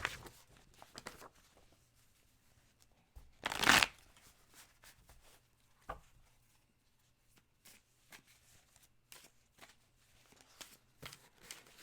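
Tarot cards are shuffled by hand in a quiet room: soft riffles and taps, with one loud burst of shuffling in the middle, no voices.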